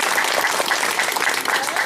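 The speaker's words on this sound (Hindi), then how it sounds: "उनका अभिनंदन करें जोरदार ताली के साथ" Loud, sustained clapping from a crowd welcoming a guest at a BJP gathering in a local community, thick and continuous from start to finish with no voices over it.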